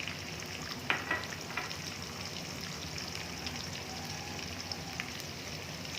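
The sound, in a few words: onions frying in ghee in a kadhai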